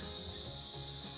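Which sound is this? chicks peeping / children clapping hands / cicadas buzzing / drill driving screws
cicadas buzzing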